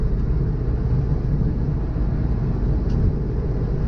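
Steady broadband wind and road roar fills the cabin of a car cruising at 70 mph, either a Ford Mustang GT350 or a Honda S2000, as a constant loud low rumble with no voices.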